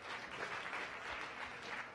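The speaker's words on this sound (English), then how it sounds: "Give them a round of applause." Steady round of audience applause from a crowd at a science cafe welcoming first-time visitors, a dense even wash of many hands clapping at moderate distance, no voices on top.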